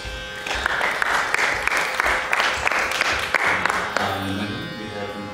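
Audience applause in a hall at a Carnatic music and dance festival, steady clapping from a crowd lasting several seconds before fading into tonal sound near the end.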